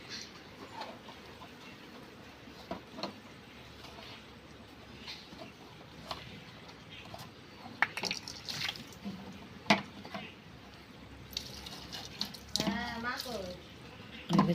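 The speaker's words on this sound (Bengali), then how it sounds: "দেখেছো বোতল ধুয়ে ধুয়ে ভরছে।" Water runs and splashes as a bottle is rinsed and filled, with gurgling pours and clinks over a running tap, while people talk nearby.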